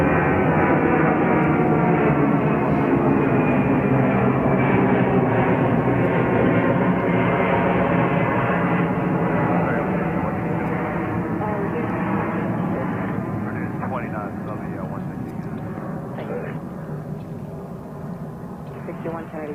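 A 25-year-old Boeing 757 jet at JFK airport roars loudly and steadily nearby, a broad engine rumble that slowly fades over about twenty seconds.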